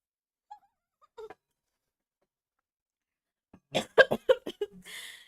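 After near silence, a sudden fit of several sharp coughs in quick succession, close and loud, ending with a breathy throat sound.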